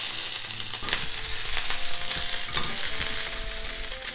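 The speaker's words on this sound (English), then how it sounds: "And this I'm gonna put in the garlic and ginger" Garlic and ginger sizzle in sesame oil in a pan, a loud, dense crackling hiss broken by the clatter of stirring.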